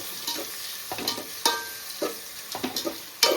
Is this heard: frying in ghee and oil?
yes